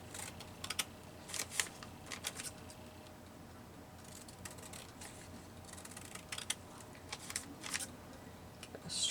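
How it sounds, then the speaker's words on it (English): Scissors snip paper away from a bag during junk-journal collage work, with quiet, scattered clicks and crisp snips spread irregularly over a hushed background. "Get a straighter cut now that I've got it cut away from that bag"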